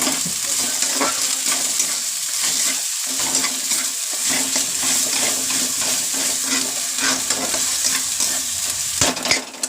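Ginger garlic paste for egg curry sizzles loudly in a pan while a spoon stirs and scrapes it in an irregular rhythm, with no one speaking.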